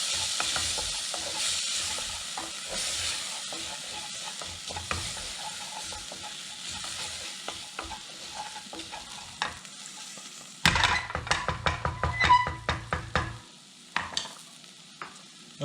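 Rinsed lentils and other ingredients being stirred and tossed in a hot pan for curried lentil soup, with a steady sizzle and then louder scraping and clattering near the end.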